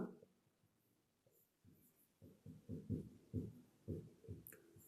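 Chalk or marker writing on a board during a maths lesson, a run of quick tapping strokes and scratches that grows denser and louder partway through, close by with no speech over it.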